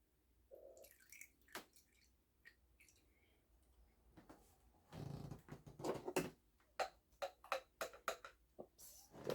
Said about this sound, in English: I'm going to pour the juice out